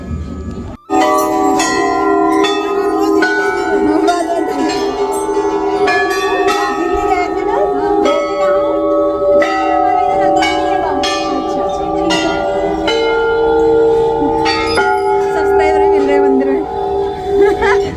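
Bells ring steadily inside a Hindu temple in Bihar, with overlapping metallic strikes and ringing tones that carry on for the full length amid a busy crowd.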